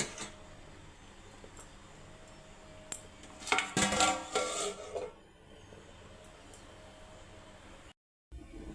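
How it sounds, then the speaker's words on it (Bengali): A spoon stirs partly cooked rice in a pot, giving a brief cluster of scraping, rustling strokes in the middle against a steady outdoor hiss, then a quieter stretch. "একটু দেখি নেড়ে ছেড়ে ভাতটা হয়েছে কি না।"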